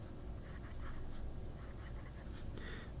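A broad-nibbed Laban Mento fountain pen scratches across paper in short strokes, a soft papery scraping heard close up over steady low background noise.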